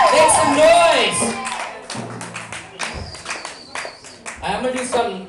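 Audience at a live show at The Ohm clapping and cheering in a broad crowd roar that swells and fades, with a voice calling out over it near the end.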